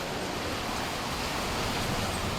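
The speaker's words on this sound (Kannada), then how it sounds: "ನಾವು ಅಷ್ಟೊಂದು ಮಳೆ ಬಂದೈತೆ ನೋಡ್ರಿ" Steady roar of heavy rain pouring down during a big storm at a house with a leaking roof, a broad, unbroken wash of noise with no talking.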